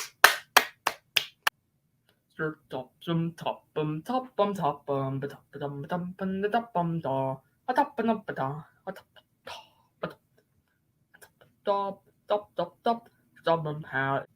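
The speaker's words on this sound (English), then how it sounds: "give ourselves a big round of applause" A single person claps about six times in quick, sharp succession near the microphone, then launches into continuous talking.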